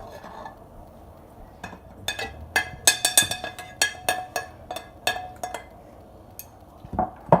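Spices for haleem mixed together in a bowl with a spoon, a rapid series of bright metallic clinks and scrapes against the bowl in an uneven rhythm, close and fairly loud, pausing briefly before a few final taps.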